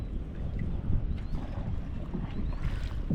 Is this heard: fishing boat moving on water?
yes